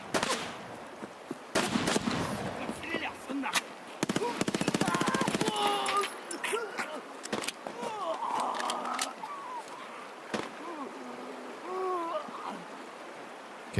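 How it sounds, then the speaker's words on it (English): Gunfire in Escape from Tarkov: several sharp bursts of automatic shots from a distance, with scattered single cracks and ambient outdoor noise, heard on their own without talk. "They're shooting at me."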